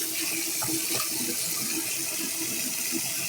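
Water from a tap pours steadily while a small bottle is rinsed, a continuous close hiss and splash with faint irregular gurgles, no voices.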